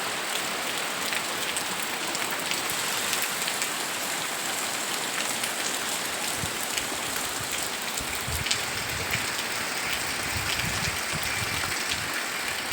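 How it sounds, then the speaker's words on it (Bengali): Heavy storm rain pours steadily during a low-pressure downpour in Bengal, a dense continuous hiss of drops drumming on surfaces that stays loud and unbroken throughout, with no voices. "আজ কিন্তু প্রচুর হারে বৃষ্টি হচ্ছে"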